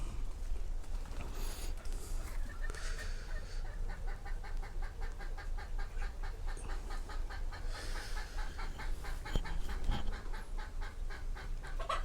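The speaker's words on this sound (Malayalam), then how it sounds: "ഒരുപാട് കോഴികളുണ്ട്, നാടൻ കോഴികൾ." Native chickens cluck and call on a small goat and poultry farm in Dibba Al Fujairah, with overlapping bird calls and bursts of rapid clucking over a continuous outdoor background.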